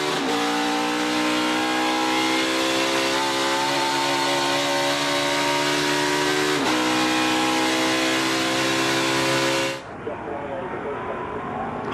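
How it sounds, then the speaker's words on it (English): A NASCAR Busch Pole qualifying race car's engine sits hard on the rev limiter with a loud, sustained buzzing drone, briefly stuttering once, then cuts off abruptly near the end, leaving fainter background noise. "It's the rev limiter."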